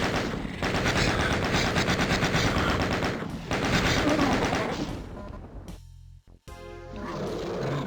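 A chaingunner enemy in the DOOM Zero video game fires a chaingun in long, loud rapid bursts with gritty rattling, broken by a short pause before the firing resumes, under growling monster roars.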